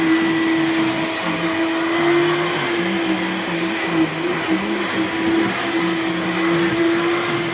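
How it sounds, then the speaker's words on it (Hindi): A vacuum cleaner working over a sofa gives a continuous motor whine with a steady high tone, and underneath it a lower, wavering pitch that shifts as the nozzle moves across the cushions. It sounds close and runs throughout, with no talking. "तो फर्स्ट टाइम मैंने पहले वैक्यूम किया उनको अच्छी तरीके से"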